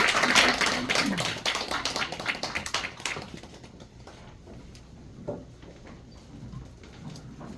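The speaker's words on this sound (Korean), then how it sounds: "크게 박수 주시기" Applause from a church congregation at a Korean Methodist installation thanksgiving service, a dense burst of clapping for about three seconds that thins out into scattered faint claps.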